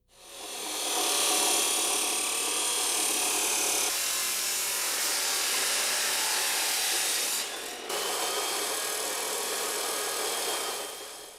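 A Dewalt 14-inch chop saw cuts through steel and throws sparks, a loud continuous abrasive scream that holds steady for several seconds, breaks briefly, then resumes before winding down.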